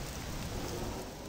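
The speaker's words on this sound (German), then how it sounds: "Ach, der Regen ist wie Säure." Acid rain pours steadily in the Star Wars Jedi Academy video game, a dense, even hiss of falling rain heard alone for a brief moment without any other sounds.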